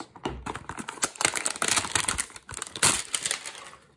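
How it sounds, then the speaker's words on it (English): Blue scissors snipping through Magic the Gathering pack packaging, a close run of sharp clicking cuts and crinkles that keeps going steadily for several seconds. "And one more with my trusty blue scissors."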